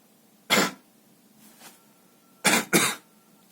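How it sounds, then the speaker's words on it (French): A person coughs hard once, clears the throat softly, then gives two more quick, close coughs back to back. "La toux. Ça, je l'ai."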